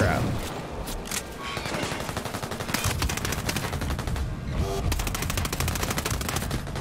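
Enemy machine-gun fire in the tactical shooter Ghost Recon Breakpoint, with sustained rapid bursts and overlapping volleys running loud and continuous throughout, close and intense, with no clear voice over it.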